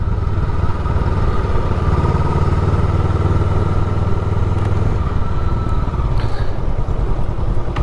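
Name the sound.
Honda motorcycle engine starting up and idling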